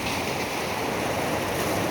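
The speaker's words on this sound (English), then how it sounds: "just viewing some nice waves here" Ocean surf at Swakopmund on the coast rolls in as a steady, close wash of broadband noise with some wind, continuous and alone with no voices.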